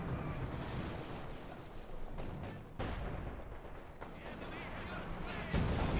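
A StuG assault gun fires in the World War II strategy game Company of Heroes 2, heavy booming shots over a constant din of battle, with a commentator talking throughout.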